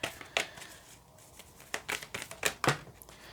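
Tarot card decks being shuffled by hand, a run of crisp riffling snaps and flutters in irregular bursts, close and fairly quiet, with no talking.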